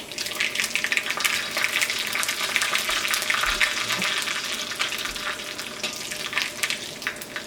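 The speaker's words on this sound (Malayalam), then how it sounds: "അപ്പോൾ ഉണക്കമുളക് പതുക്കൊന്ന് പൊരിഞ്ഞു തുടങ്ങിയിട്ടുണ്ട്." Dried red chillies fry in hot oil with popped mustard seeds while preparing a Kerala-style cauliflower thoran, giving a steady, close, crackling sizzle with scattered pops throughout and no talking.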